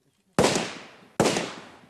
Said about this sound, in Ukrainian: І ще три постріли у спину.